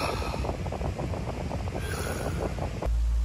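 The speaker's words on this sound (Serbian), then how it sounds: "imamo ventilator, šta da stavimo? Da stavimo high, medium, low, hoćemo na high malo da se čuje kao traktor" An electric fan running on its high setting makes a loud, steady, close-up whooshing roar with a rapid fluttering pulse. Near the end it gives way to a low hum.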